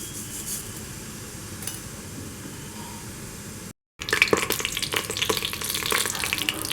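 Mustard seeds crackle and pop in hot oil for a sambar tempering, a quiet steady hiss that breaks off and returns as louder, denser spluttering with sharp pops up close.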